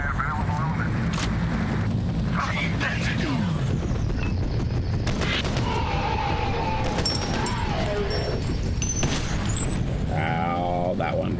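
Dense, chaotic gunfire and booming blasts from shotguns in the shooter game F.E.A.R., loud and continuous with crashes and impacts throughout, a voice talking under the din.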